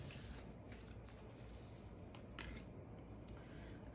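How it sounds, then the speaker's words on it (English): Tarot cards are shuffled by hand, a quiet series of soft riffling and flicking bursts with brief pauses, close and faint in a still room. "I'm gonna do one more shuffle."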